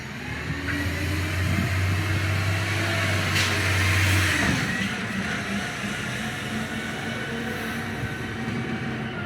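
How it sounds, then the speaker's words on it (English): A loud garbage truck rumbles nearby outdoors, a heavy low droning engine with a strong low hum that cuts off partway, followed by continued mechanical roar and hiss with no talking. "Oh, that garbage truck is super loud."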